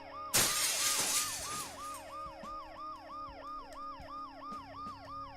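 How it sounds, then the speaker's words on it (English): A sharp glass shatter crashes loudly at the start of a scene in the Dead Synchronicity adventure game, its debris tinkling briefly, while an ambulance siren wails in a steady repeating up-down pattern underneath and continues alone afterward. "In spite of the noise I made breaking the glass and the ambulance's deafening"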